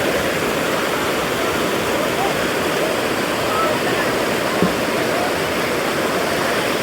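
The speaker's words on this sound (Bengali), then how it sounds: "এই যে দেখুন পানির গর্জনটা শুনুন একবার" Loud, steady roar of rushing water fills the whole clip, a dense continuous wash of noise like a big waterfall or torrent close by, at Sada Pathor in Sylhet.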